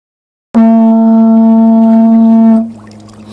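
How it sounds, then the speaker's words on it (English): One long, loud, steady low note blown on a bull kelp horn for about two seconds, rich and buzzy like a foghorn, then cutting off into quiet outdoor coastal ambience in British Columbia. "Peter blew a note that could have passed for a foghorn."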